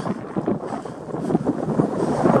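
Strong outdoor wind buffets the microphone in steady, roaring gusts across a park alley, loud and continuous with no talking.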